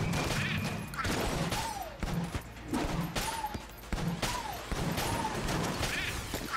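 Rapid pulse cannon gunfire in the Enter the Gungeon video game fires in a fast repeating burst of punchy shots, with rising chirps between blasts, loud and continuous throughout.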